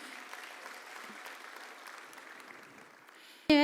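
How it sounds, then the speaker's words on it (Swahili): A crowd at a Kenyan celebration of minority rights applauds in a sustained wash of clapping that fades slightly, then a sudden loud electronic tone breaks in at the very end. "Mjipigie makofi."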